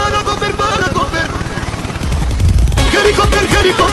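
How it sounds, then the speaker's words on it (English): A helicopter rotor drones under excited shouting during a chaotic scene of lightning and a burning car, its thudding hum steady and fairly loud, rising slightly toward the end. "Helicopter, helicopter!"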